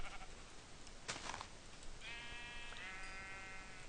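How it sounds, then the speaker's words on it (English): Several sheep bleating in the Minecraft video game, a drawn-out wavering game-sound bleat near the end with a brief noisy burst before it, over a steady low background. "oh look, there's 3 sheep"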